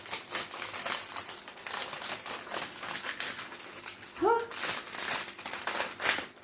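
Plastic packaging from an AliExpress unboxing crinkles steadily and close by, then tears with a short sharp rip partway through, continuing to rustle afterward.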